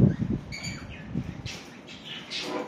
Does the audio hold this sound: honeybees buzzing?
no